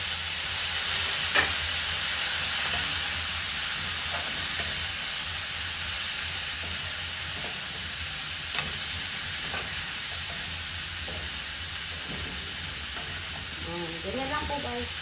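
Okra tipped into a pan of already-cooked meat for adobong okra sizzles steadily and fairly loudly, with occasional stirring scrapes and light taps against the pan over a constant frying hiss.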